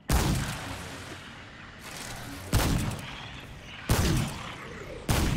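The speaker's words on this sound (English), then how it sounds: "Let's shoot him from afar." Heavy gunshots boom in the video game Remnant II, four loud blasts spaced about a second apart, each with a long echoing decay, fired at an enemy from a distance.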